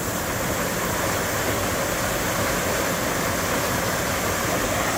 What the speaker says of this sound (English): Like I said, this runs all year. It comes down and goes in the culvert.